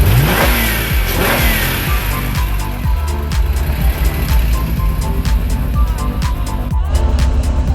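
A Honda NSX engine runs right after startup, a loud, close, continuous rumble with revving swells and steady idle.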